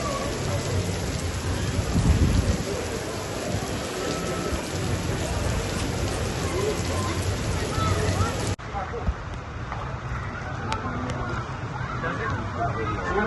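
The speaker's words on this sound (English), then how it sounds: "you get stuck in the rain in a theme park" Heavy rain pours steadily in a dense hiss at a theme park in Galveston, Texas, with faint crowd murmur beneath; the downpour drops off sharply near the end, leaving lighter patter.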